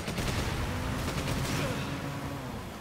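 Dense gunfire in the video game Resident Evil 5, a continuous rumbling barrage of shots and game noise, moderately loud and unbroken throughout.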